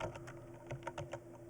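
Quiet, rapid keystrokes on a computer keyboard, a brief flurry of soft clicks over a faint steady background hum.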